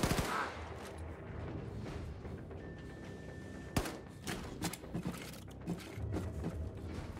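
Gunfire from the video game Wolfenstein 2: The New Colossus, with scattered shots and a sharp loud blast near the middle over a busy game soundscape.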